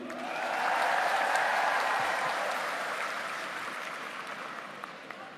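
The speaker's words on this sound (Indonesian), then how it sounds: "tepuk tangan lagi" An audience at an official gathering in East Java applauds, the clapping swelling in, peaking early, then slowly tapering while staying dense and moderately distant.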